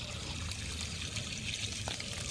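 Water poured over a new brick wall for curing, giving a continuous near pouring and dribbling wash that stays even throughout, with no voices.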